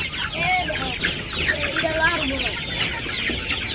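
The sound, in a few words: chickens and roosters clucking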